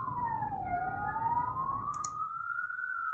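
Fire engine siren wailing in the background, a single continuous tone that dips and then slowly rises in pitch, moderately distant and steady over low rumble, with a brief faint chirp partway through.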